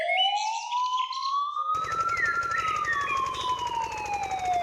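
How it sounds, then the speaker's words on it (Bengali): A wailing siren tone rises and then slowly falls during a flood rescue scene in a Bengali cartoon. A loud mechanical rattle joins partway through, and no one speaks. "সাইরেনের মতো শোনা যাচ্ছে না।"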